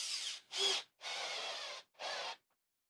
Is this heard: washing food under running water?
no